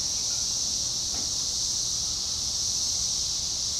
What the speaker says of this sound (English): Look at all the cicadas.